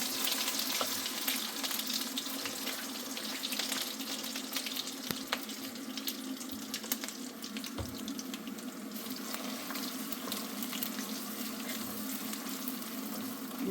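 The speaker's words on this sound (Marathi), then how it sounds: "आता आपण हा मसाला तेलामध्ये सोडायचा आहे." Masala paste frying in hot oil for a drumstick curry, a dense continuous hiss and crackle close by at an even level, with faint scattered pops, no one speaking.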